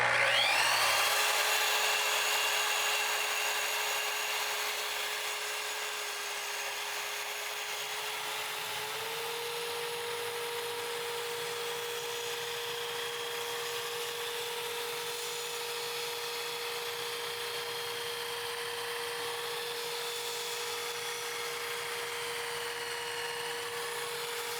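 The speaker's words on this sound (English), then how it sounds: "I'm going to square up an end and then cut them to their final length." A power saw runs steadily through workbench boards, cutting them to final length in a woodworking shop; a sustained loud motor whine with a pitch shift partway as the blade loads, continuing without speech.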